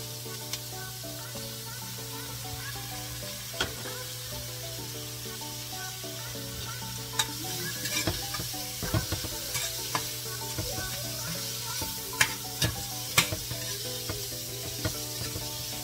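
Brunch food fries in butter in a pan with a constant close sizzle and hiss, broken by sharp clicks and scrapes as the pieces are tossed and stirred, no voices.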